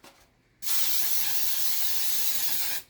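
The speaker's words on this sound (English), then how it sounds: "Spray it down." A single sustained burst of Baker's Joy baking spray into a bread pan, a loud bright hiss lasting about two seconds, close up and otherwise quiet.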